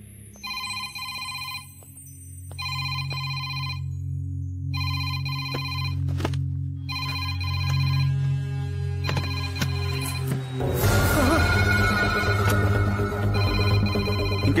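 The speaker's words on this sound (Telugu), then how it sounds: "రింగ్ అవుతుంది కానీ ఎవరు ఎత్తట్లేదురా" An unanswered telephone rings in a Telugu film scene: regular repeating electronic ring bursts over a low musical drone, then louder background music swells in and takes over.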